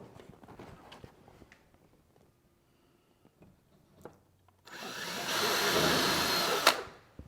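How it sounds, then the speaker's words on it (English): A power drill whirs steadily for a couple of seconds, drilling a pilot hole for shutters, after some quiet shuffling and handling noises, close by. "Now I'm gonna drill a pilot hole first."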